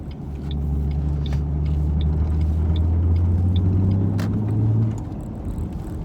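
Steady low road rumble and engine drone inside a moving 2007 Ford Mustang convertible with a V6 engine and its top up, constant and fairly loud for about five seconds before easing, with faint light ticking above it and no talking.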